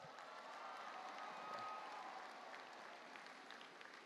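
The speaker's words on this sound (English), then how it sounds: "Let's give them a round of applause." A large audience applauds at the C.E. Byrd High School class of 2023 graduation ceremony, a faint, distant and even roar of clapping that holds steady throughout.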